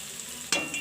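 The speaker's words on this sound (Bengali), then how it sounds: "পেঁয়াজটা ভাজা হতে থাকছে।" Onions fry in a pan, a soft even sizzle that ends with one brief scrape or stir near the close.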